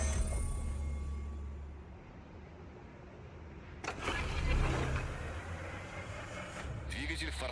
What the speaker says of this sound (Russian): Двигатель в форсированном режиме.